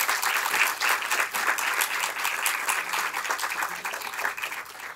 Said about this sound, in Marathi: एकदा टाळ्यांचा कडकडाट होऊ द्यात.